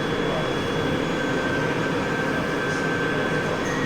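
A London Underground Piccadilly line train runs at speed, producing a steady, loud rumble and roar inside the carriage, with a faint high whine riding over it throughout.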